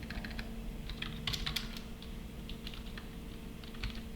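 Rapid typing on a computer keyboard while Java code is written, light clustered key clicks with short bursts and pauses, close and steady over a low background hum.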